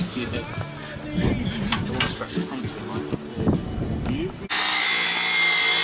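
An angle grinder kicks in abruptly on a car with crushed seams being rebuilt, a loud, steady, high-pitched whine after several seconds of voices and workshop clatter.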